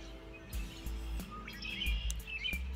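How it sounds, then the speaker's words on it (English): Birds chirp and tweet outdoors at sunrise in early spring in Northwest Ohio, with scattered short calls over a low background rumble, fairly quiet and moderately distant. "let the birds sing to you"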